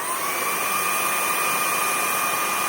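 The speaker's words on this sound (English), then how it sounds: "you simply touch this button once and the vacuum starts and doesn't stop until you press it again." A Shark Wandvac cordless handheld vacuum runs steadily up close, a continuous high-pitched whine and airflow hiss with no change in pitch or loudness throughout.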